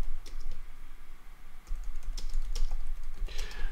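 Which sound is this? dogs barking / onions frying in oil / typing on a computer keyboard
typing on a computer keyboard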